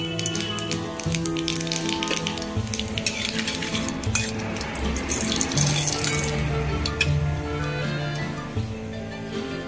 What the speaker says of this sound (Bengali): কড়াইতে তেল দিয়ে দিয়েছি। এবার দিয়ে দিলাম একটু কালো জিরে ফোড়ন